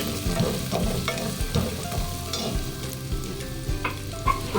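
Garlic fries in a pan for a snail dish in coconut milk, a close, lively sizzle broken by repeated scraping stirs.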